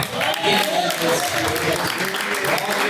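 A congregation at a Pentecostal church service claps loudly and steadily, with voices calling out underneath the applause throughout.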